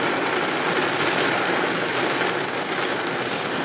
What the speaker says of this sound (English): It's raining. It is starting to rain.